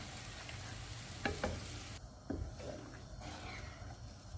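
Beef curry with yogurt and an onion, tomato and chilli paste stirred in gives a quiet, steady sizzle, with a few scraping stirs near the start and no talking.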